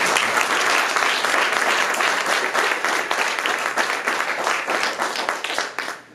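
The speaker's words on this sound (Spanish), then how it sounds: "¿Alguien puede dar un aplauso?" Wedding guests applaud loudly and close by, a thick crackle of many clapping hands that stays strong for several seconds and then tapers off quickly.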